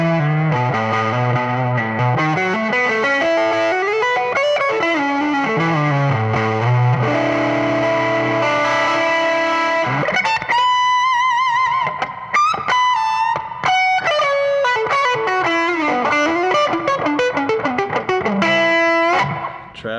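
A distorted electric guitar with a split humbucker pickup plays chugging low riffs, then higher sliding bends and lead phrases, loud and continuous with no talk.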